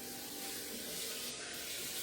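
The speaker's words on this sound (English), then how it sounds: "My hands, just give myself a quick rinse." Hands rinsed under a running kitchen faucet, a steady close hiss of flowing water splashing without pause.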